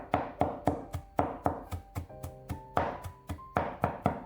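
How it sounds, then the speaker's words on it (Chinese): A knife chops blanched broccoli on a wooden cutting board, a quick, even series of sharp close thuds at about three per second, with nothing else heard. "切好之后再用刀剁一剁，这样口感吃起来会比较好"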